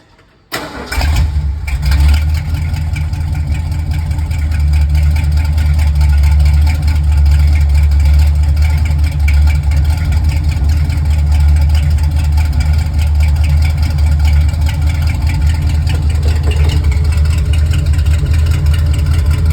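A 1969 Ford F350 truck fitted with long tube headers and Flowmaster Super 10 mufflers cranks, fires up and settles into a loud, steady, deep rumbling idle close by.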